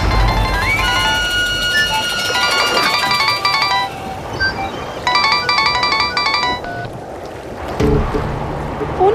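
A phone ringtone plays in repeated melodic bursts with short gaps between them, loud and near, with lapping water and low background sounds underneath.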